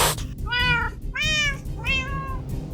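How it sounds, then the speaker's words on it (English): Cat meowing in Minecraft, three distinct drawn-out meows in quick succession, close and clear over a low background bed. "I got interrupted by a cat intruding at our base"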